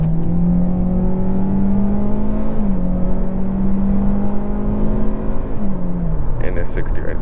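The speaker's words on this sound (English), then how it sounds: "Let me just do a small acceleration for you guys." A 2024 Hyundai Elantra Limited accelerates from inside the cabin, its engine droning and rising steadily with a gear-change dip before climbing again, loud and continuous, with a brief rattle near the end.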